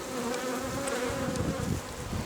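Honey bees buzz at the hive, a dense continuous drone from many insects close by, steady and fairly loud with no talking.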